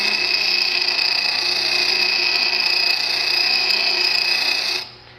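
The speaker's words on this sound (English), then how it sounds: "I'll bring it back to the pedestal and back into contact with the rotating grinding wheel" Pedestal grinder's rotating wheel grinding a metal part, a steady high-pitched whining screech held evenly for several seconds before dropping away as the part is pulled off the wheel.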